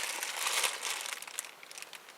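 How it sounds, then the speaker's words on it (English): Plastic sandwich bags holding foraged dandelion flowers and dock leaves crinkle and rustle up close, with bursts of crackling that thin out into softer, scattered crinkles. "There will be a little bit of rustling with the bags"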